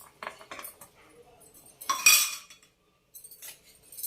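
A cooking pot is set down in a kitchen while making beaten-rice payasam with melted jaggery, giving a few close metallic clinks and clanks with brief scrapes, followed by quiet.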